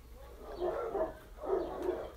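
Dogs barking at a visitor arriving at a garden: two bursts of barking heard from a distance, fairly faint against outdoor background noise.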